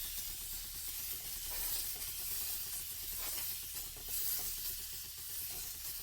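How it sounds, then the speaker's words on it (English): A steam cleaner sprays a direct jet of steam, giving a steady, soft, close hiss that continues throughout with slight surges in strength. "You get a nice direct stream right there, which is really nice."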